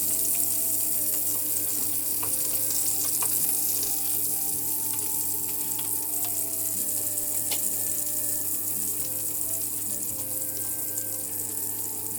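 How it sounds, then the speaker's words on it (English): Vegan meatballs fry in a pan with a steady, even sizzle over a constant low hum, continuous and close with no talk. "I'm going to fry them first before we add them to our yiachni"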